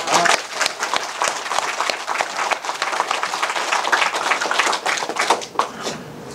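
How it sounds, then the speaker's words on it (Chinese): A hall full of teachers at a training session applauds together, a dense, sustained patter of many hands that holds steady for several seconds before easing off. "我们给自己来一次掌声"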